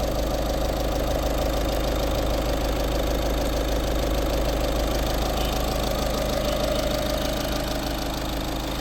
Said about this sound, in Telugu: మీరు ఇంజన్ బీటింగ్ కరెక్ట్గా మీరు వినండి.